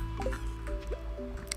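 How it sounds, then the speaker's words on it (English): Watering crops in the farming game Stardew Valley: a few soft, wet splashing and dripping sounds, quiet and short, over a low steady background hum. "now we need to water our plants"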